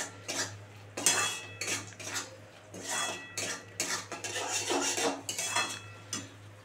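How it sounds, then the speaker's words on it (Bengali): A utensil stirs beaten sour yogurt frying in a pan, making repeated scraping and clinking strokes over a low steady hum. The stirring is close and rhythmic, and no one speaks. "দিয়ে একটু নাড়াচাড়া করে কষিয়ে তারপরে জল দিয়ে দেবো"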